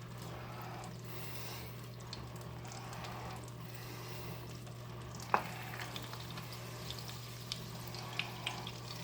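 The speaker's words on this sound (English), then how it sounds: "once that melts, it'll be time to add the potato and onion mixture" A potato and onion mixture frying in melted butter and oil, giving a steady soft sizzle under a low constant hum, with a few faint clinks of stirring.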